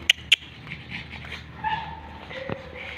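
Pet dogs on a family trip let out a few sharp yips followed by soft whimpers, brief close bursts over quiet background noise.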